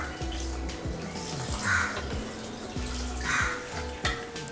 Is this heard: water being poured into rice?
yes